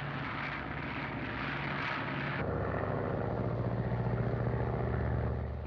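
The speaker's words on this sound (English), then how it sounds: "The plane is now under radio control from the board here." A radio-controlled airplane flies with a steady, droning engine that holds a continuous buzzing roar. Its tone shifts partway through, and no voices are heard.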